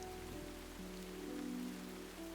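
Heavy rain falls steadily on a surface, a constant hiss at moderate level with a faint sustained musical tone running beneath it.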